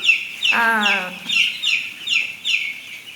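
Young dual purpose parent-stock chicks, about eleven days old, chirp in a brooder pen with a steady run of high, close peeps, and a single longer, lower clucking call from one of the birds stands out early on.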